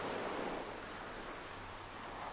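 Ocean waves roll and wash continuously in a steady, broadband surf roar, swelling and receding gently with a low rumble underneath; no voices.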